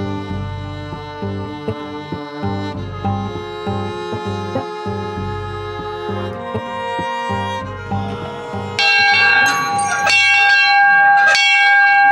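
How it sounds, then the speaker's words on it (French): A Rama III era temple bell in Surat Thani rings out repeatedly, its sustained metallic tones overlapping and layering, growing brighter and louder toward the end with fresh strikes. "il faut sonner parce que cette cloche apporte justement de la prospérité, de la gloire, de la bonne fortune, une bonne santé"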